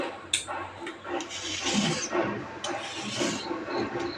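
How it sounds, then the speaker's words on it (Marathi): Carrots being peeled with a vegetable peeler, giving repeated close scraping and rasping strokes in an uneven rhythm, moderately loud with no talking. "आपण आता सोलाण्यानं छानपैकी सोलून घेऊया।"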